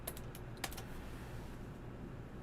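Quiet typing on a computer keyboard, a few quick clustered key clicks near the start and then sparse faint taps over low background noise, with no talk.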